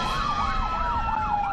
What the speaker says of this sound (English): Ambulances went through the Rafah border crossing this morning between Gaza and Egypt